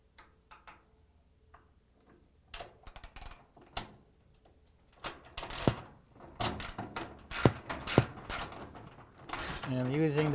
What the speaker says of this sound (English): using the 13 millimeter socket wrench, we're going to tighten the bolt